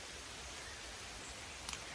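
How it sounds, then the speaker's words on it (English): Steady rain falls outdoors on wet ground near a small survival campfire, a soft continuous hiss with no voices, faint and even throughout. "It's raining again, everything's wet"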